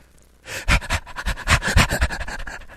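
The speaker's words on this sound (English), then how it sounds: "that dog panting" A dog pants rapidly and close by, a steady run of quick breathy huffs that starts after a short quiet moment and keeps going without any talk over it.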